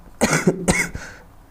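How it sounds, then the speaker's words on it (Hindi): Two or three quick, close coughs in a short burst, with no talking. "खांसी हो गया थोड़ा सा"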